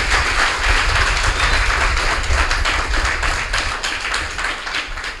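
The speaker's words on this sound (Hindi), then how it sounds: "खुशी में इनकी शान में एक ज़ोरदार तालियां बजा दें" A hall audience claps loudly in honour of teachers at a university Urdu department gathering, a dense, continuous burst of hands that holds steady throughout.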